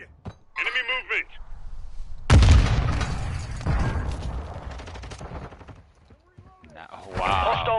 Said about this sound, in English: Hostile cluster mine deployed. Grenade!